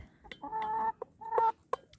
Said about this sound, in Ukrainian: Оця курочка марана в мене дуже гарна.